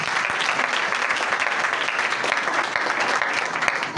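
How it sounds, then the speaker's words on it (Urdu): A church congregation applauds together, a dense, loud, steady clapping that fills the whole stretch without a break. "زوردار تالیاں خداوند دے نام"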